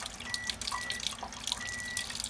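Water pours steadily from the spout of a water ionizer machine with the flow turned up, a continuous close splashing stream into a sink with faint drips and no talking.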